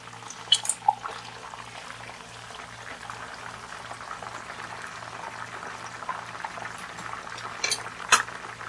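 Chicken for patakha chicken frying in a pan as it is turned over, a low steady bubbling sizzle with a few sharp clinks and scrapes near the start and end, quiet and close.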